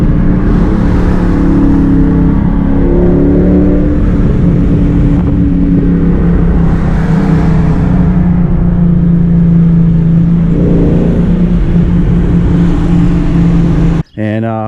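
A car with a 6.1L SRT engine out on a cruise drones loud and close, swelling and easing in a few gentle revs before the sound cuts off abruptly near the end.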